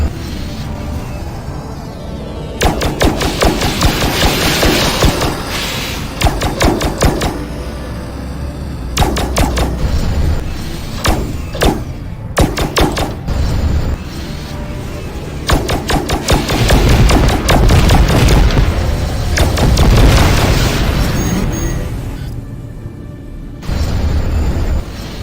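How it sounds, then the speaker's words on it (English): Rail guns firing in the space combat game Tachyon: The Fringe, loud repeated bursts of rapid shots and booming impacts over a constant engine rumble, stopping and starting in several dense volleys. "friendly Bora do have rail guns"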